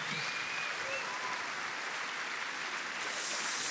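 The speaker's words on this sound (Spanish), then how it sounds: "Fuerte ese aplauso." Steady, dense applause from a church congregation fills the space throughout, even and continuous, with a faint voice briefly audible under the clapping.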